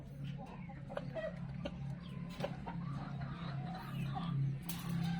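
A young Peruvian rooster clucks in short, scattered calls over a constant low hum, fairly faint and close, with intermittent rustles and knocks throughout.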